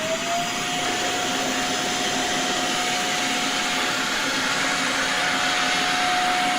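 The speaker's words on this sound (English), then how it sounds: "So let's vacuum the carpet and see what kind of energy the vacuum cleaner pulls." A vacuum cleaner powered by an Ecoflow Delta 1300 solar generator runs steadily on carpet, giving a constant close-up whooshing roar with a thin whine that holds even throughout.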